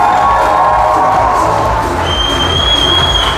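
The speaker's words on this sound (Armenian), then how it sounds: "Հիմա ծափերը տալիս են, պես էի կողմը։" Guests at an Armenian wedding in Gyumri clap and cheer loudly, close by and continuous, with shouts and whoops from adults and children rising over the clapping and a whistle-like tone appearing partway through.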